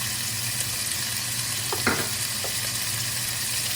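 Vegetables and pork collar with oyster sauce stir-fried in a pan, giving a constant close sizzle with a few brief scraping stirs in the middle and no talking.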